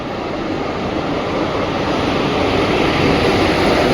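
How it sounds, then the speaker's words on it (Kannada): Secunderabad–Pune Shatabdi Express train pulling into a station platform, a loud steady rumble and roar of the moving train that builds slightly over several seconds with no talk. "ಸಿಕಂದ್ರಾಬಾದಿಂದ ಪುಣೆಗೆ ಹೋಗುವ ಸಿಕಂದ್ರಾಬಾದ್ ಪುಣೆ ಶತಾಬ್ದಿ ಎಕ್ಸ್ಪ್ರೆಸ್ಸು ವ್ಯಾಪ್ ಫೋರ್ಟ್ ಜೊತೆಗೆ"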